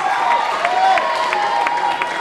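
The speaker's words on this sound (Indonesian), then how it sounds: "tepuk tangan buat Palu" Live crowd at a Hard Rock Rising 2013 band battle in Indonesia applauds and cheers steadily for a rock band from Palu, a dense wash of clapping with voices mixed in.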